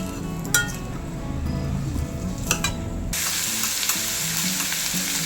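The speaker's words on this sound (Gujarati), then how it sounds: "કાંદાને આપણે ધીરે ધીરે હલાવી લઈશું. જે લસણનો વઘાર કર્યો છે ને એમાં આપણે મિક્સ કરી દઈશું." Onions tossed into a garlic tempering and stirred slowly in a pan, a burst of loud sizzling that swells midway, with spatula scrapes and a few light metallic clinks, no speech.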